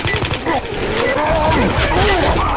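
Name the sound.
gunfire in the video game Left 4 Dead 2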